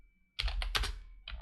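Keys clatter on a computer keyboard in a quick burst of close, distinct taps after a brief silence, then pause and resume with a few more strokes, while someone types Python code.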